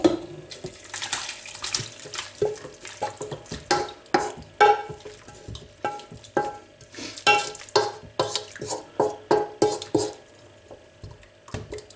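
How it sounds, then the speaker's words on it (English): Jamaican goat curry mix, boiled up, being scooped and poured into a slow cooker, with wet sloshing, spoon scrapes and knocks against the pot in an irregular rhythm, close and fairly loud, no talking. "I'm transferring it now into the slow cooker"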